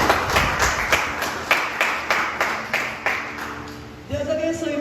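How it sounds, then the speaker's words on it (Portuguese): Rhythmic clapping from a church congregation, close and moderately loud, slowing and fading before a voice starts speaking at the end. "Aplauda ali o pessoal da mídia"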